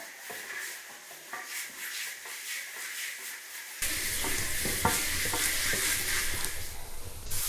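Water poured into a hot uncoated cast iron wok during seasoning, a loud steady sizzle and hiss that jumps up sharply midway and continues with scraping rubs.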